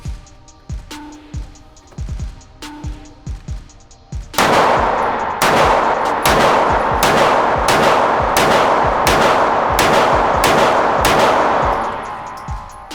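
SIG P365 pistol with an aluminum grip module fired in a rapid string of about a dozen loud, sharp shots, preceded by softer clicks and handling noises.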